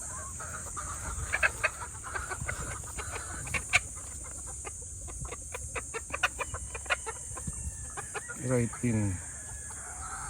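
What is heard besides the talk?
Python Red gamefowl rooster clucking and crowing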